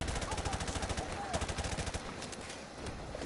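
Rapid automatic gunfire in Call of Duty Modern Warfare Remastered on a PS4 campaign mission, steady bursts of shots rattling for about two seconds, then fading into sparser, quieter fire.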